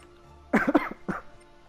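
Two close coughs, the first a quick double burst and the second a single short bark, in a quiet room.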